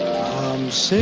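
Rain from a passing storm falls steadily outside, a dense close hiss of drops striking surfaces, with a voice speaking over it.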